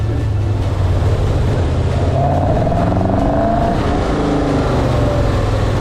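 Nichols car driven on public roads in England, a loud continuous engine drone with shifting pitch as it accelerates, close and steady throughout with no talk.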